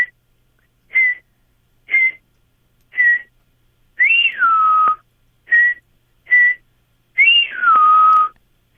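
A person whistling an imitation of a gray jay call: a series of short clear whistles at steady intervals, with two longer notes that slide downward, close and alone.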